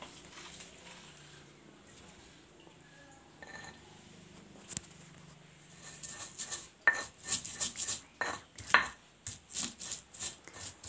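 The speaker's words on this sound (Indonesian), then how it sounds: "Sekarang aku haluskan bumbunya dulu. Untuk bumbu ayamnya dihaluskan dulu sampai halus." Spice paste for Indonesian-style fried chicken seasoning is ground down, beginning quietly and turning into a run of rhythmic, close, rasping strokes and knocks during the second half.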